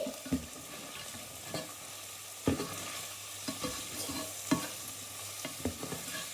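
Onions fry in a pan with a steady sizzle while a utensil stirs them, sending repeated scraping knocks against the pan at an uneven rhythm, close and clear, with nobody talking.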